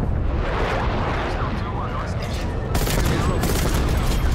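Napalm airstrike in Call of Duty: Cold War, a continuous roaring wash of explosions and gunfire with a sharp intensification partway through, while a voice talks over it.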